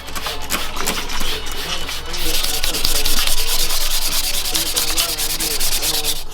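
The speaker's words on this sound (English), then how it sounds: "It's gonna be a wet sand, so it's a little bit finer" Wet sanding of a damaged brass-colored Dodge Hellcat wheel rim by hand, a continuous loud, close, rhythmic scrubbing rasp that grows more intense midway and keeps an even back-and-forth pulse.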